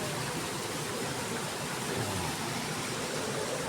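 Water rushing at Aling Falls, a constant broadband roar of the waterfall that stays steady and fairly close throughout, with no talk over it.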